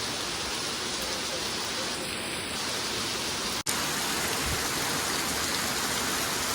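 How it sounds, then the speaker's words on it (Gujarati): Heavy rain pours down on a road, a dense, constant hiss that fills the scene, briefly broken by a sharp click midway. "અત્યારે વરસાદ ચાલુ છે"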